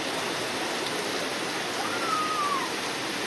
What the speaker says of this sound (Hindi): वर्षा के भाई वर्षा रे